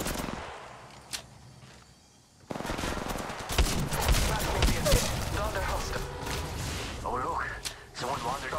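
Gunfire in the mobile battle-royale game Apex Legends Mobile comes as dense bursts of shots after a brief quiet lead-in, loud and sustained, mixed with game voice lines.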